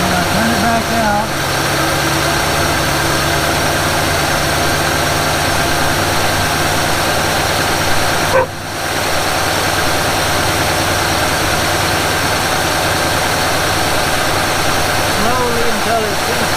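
A 1948 Willys Jeep engine idles loudly and close while its idle screw is adjusted, a steady rumbling drone with a brief dip partway through and someone talking over it.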